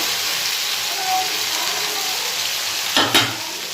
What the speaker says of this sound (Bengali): বাকি মাছগুলো ভেজে নেব একবারে হবে না দুবারে ভাজতে হবে